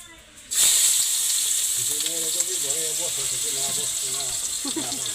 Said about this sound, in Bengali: এই যে পেঁয়াজগুলো সুন্দর করে ভেজে নিতেছি